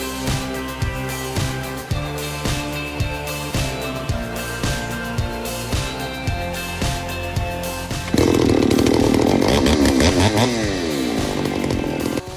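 Chainsaw cutting wood during tree felling, a steady buzzing engine with rhythmic revving pulses, then a louder, harsher stretch as the chain bites in, close and continuous with no talk.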